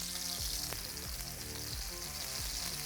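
Chicken piccata meatballs fry in oil in a stainless steel pan, giving a loud continuous sizzle with a few faint clinks and shifting bubbling underneath.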